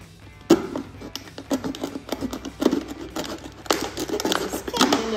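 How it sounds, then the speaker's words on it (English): Scissors cut along the long side of a container for an erosion experiment. Close, irregular snips and crinkling scrapes repeat as the material is worked through. "I'm going to use the scissors to do the long part"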